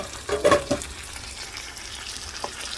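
Potatoes frying in a pan while being stirred and tossed: a short burst of scraping and sizzling up close, then a quiet, low simmering hiss.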